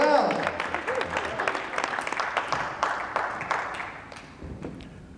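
An audience breaks into applause for a motivational speaker, a dense, lively clapping that swells at the start and slowly tapers off, with a voice heard over it.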